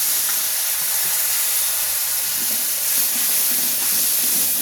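Spice paste of cumin powder, turmeric and salt with a splash of water sizzling in a pan, a loud, steady hiss that holds evenly throughout with no talking.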